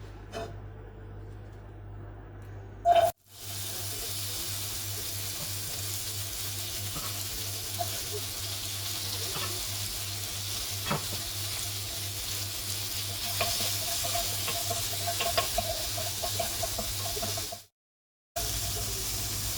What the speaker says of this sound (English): to pan fry the vegetables. I'm going to start with the onion.